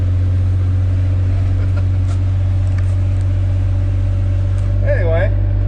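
A cheap old 4x4 work truck drives along with a loud, droning cab noise, a heavy low engine hum and road rumble that stays constant throughout, with a brief bit of speech near the end.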